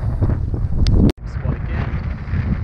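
Strong wind buffeting the microphone at a lagoon while fishing, a loud continuous low rumble with a brief dropout near the middle and no speech.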